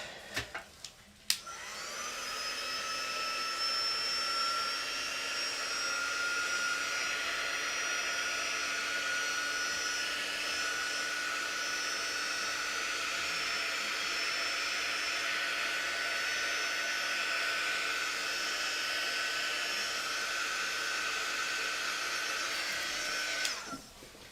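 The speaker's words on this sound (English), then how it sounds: "before you do that, you want to dry it" A hair dryer blows steadily for over twenty seconds while drying a chalkboard, a loud continuous whooshing whine with a click as it switches on and again at the end.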